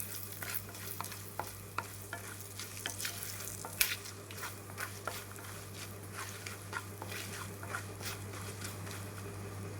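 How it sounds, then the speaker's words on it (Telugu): Curry leaf powder is stirred into a mixture in a pan for curry leaf rice, with a quiet, steady sizzle and repeated light scraping clicks of the spoon against the pan. "కరివేపాకు పొడి వేసుకుని ఇదంతా ఒకసారి అయితే కలుపుకోవాలి."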